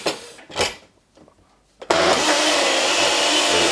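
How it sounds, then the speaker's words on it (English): Kitchen blender switching on and running steadily through a warm mixture, with a loud, constant whirring roar after a couple of short handling bumps and thuds. "we're going to pop that on the blender"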